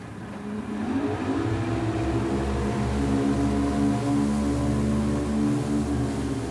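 A center console deep-V motorboat's twin outboard engines roar steadily and rise in pitch as it accelerates onto plane, a continuous close droning hum with no talking.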